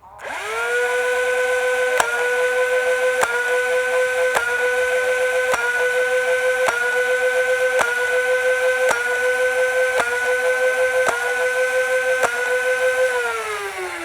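A motorized foam dart blaster whirs steadily while sharp snapping shots fire at a regular pace, about ten Elite darts in a row, before the motor winds down.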